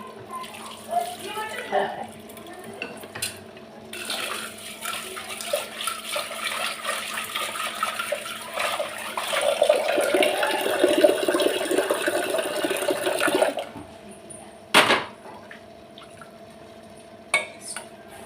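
Bottle gourd being washed in a kitchen under running tap water, a steady splashing stream with handling noises that swells and then stops, followed by a few sharp knocks, with a voice talking faintly underneath.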